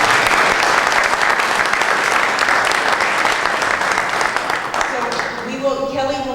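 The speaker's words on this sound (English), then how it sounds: "Big round of applause." A big round of applause at an agricultural briefing on swine disease, with a roomful of people clapping loudly and continuously, fading near the end as a voice begins speaking.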